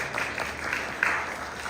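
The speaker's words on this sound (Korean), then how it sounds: "우리 박수로 한번 환영하겠습니다." A church congregation applauds to welcome newcomers during a Sunday service, a soft, even patter of clapping that holds steady for a couple of seconds at moderate distance.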